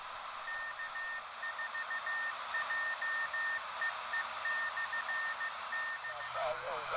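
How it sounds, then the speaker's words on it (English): A radio beacon station heard on a 10 meter handheld radio sends a steady stream of keyed beeps, a thin tone pattern riding over loud, hissing band static throughout. "first thing I hear is a beacon station, K4JEE,"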